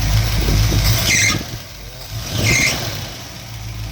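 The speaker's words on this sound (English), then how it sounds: "you can hear it starting to lug and stall" Mopar engine with suspected bad coils struggling to run, a rough mid-pitched rumble that surges, sags and lugs while a high squeal from the fan or power-steering belt rises twice, with talk over it.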